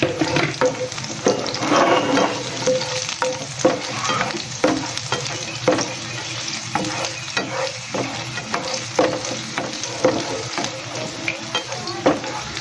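Bitter gourd (ampalaya) tossed into a hot pan with garlic and stir-fried, loud continuous sizzling with repeated scraping and stirring strokes of a spatula, close up and without speech.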